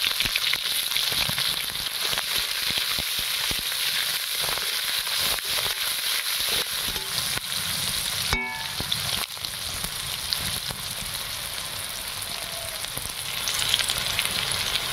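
Onion fries in hot oil in a wok with a steady crackling sizzle that lasts throughout. There is a brief sharp clatter partway through.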